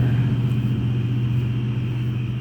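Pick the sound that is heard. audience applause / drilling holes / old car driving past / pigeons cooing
old car driving past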